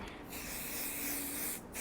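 Spray adhesive hisses from an aerosol can onto quilt fabric and pre-printed batting, a steady close spray of about one and a half seconds with brief gaps at the start and end, heard alone.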